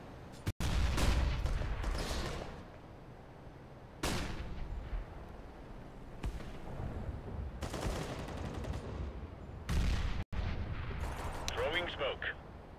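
A grenade blast in Counter-Strike: Global Offensive, with loud explosive bursts and gunfire rolling through the round amid battle noise, several heavy booms spaced across the clip and radio-style voices heard over the action.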